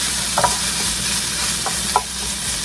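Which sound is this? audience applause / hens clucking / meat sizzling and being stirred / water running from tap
meat sizzling and being stirred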